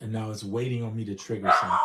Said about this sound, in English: that's my dog barking in the back